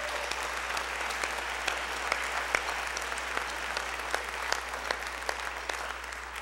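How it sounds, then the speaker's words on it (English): A school audience applauds band students at a middle school spring concert, steady even clapping from a crowd that carries on without a break. "If we could give them a round of applause."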